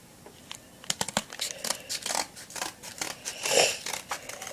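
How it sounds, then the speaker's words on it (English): Scissors cutting cardboard for a homemade hidden-blade prop: a quick, irregular series of crisp snips and crunchy cuts, close and clear, with no talking. "And just put it in there, and then cut the cardboard."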